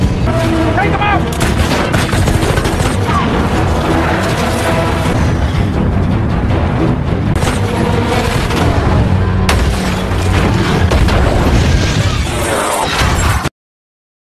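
Loud, dense gunfire rattles through a gangster film shootout over a heroin shipment hijack, with rapid bursts and booming shots layered with music and effects, nearly continuous for the whole stretch.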